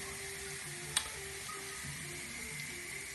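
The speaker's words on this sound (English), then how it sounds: "The chilli and the garlic frying away nicely." A quiet, steady sizzle of chilli and garlic frying in a pan for penne arrabbiata, with one faint tick partway through.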